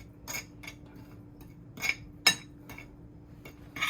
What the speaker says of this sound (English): I'm gonna just stir everything